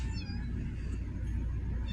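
Pet cat meowing indoors, a drawn-out close call over a rumbling background hum, with no talking.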